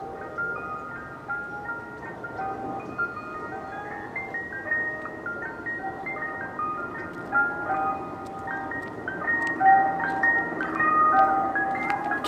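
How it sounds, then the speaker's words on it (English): Ice cream truck jingle played through the external speakers of a Tesla Model 3, a tinkly chime melody outdoors at moderate volume, growing slightly louder toward the end, no voices. "you could just play that and kids will think that you're the ice cream man"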